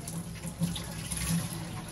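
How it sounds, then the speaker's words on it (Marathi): Hot water is poured steadily into chicken cooking in a pan for a Konkani dry chicken dish, a close, continuous gurgling splash. "त्याच्यात मी अर्धी वाटी पाणी घालते."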